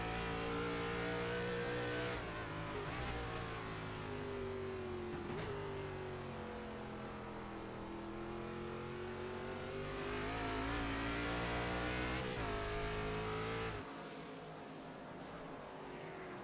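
Race cars in a sim racing game roar down the final straight at Sebring, a steady loud engine drone with pitch rising and falling as gears shift, sustained throughout before easing slightly at the end.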